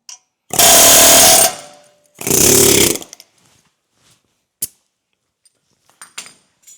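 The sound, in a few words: impact wrench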